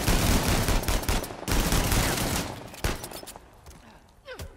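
Dense gunfire from a firefight in Uncharted: The Lost Legacy, rapid overlapping shots in loud sustained bursts that break off briefly, then thin out into scattered, fainter reports toward the end.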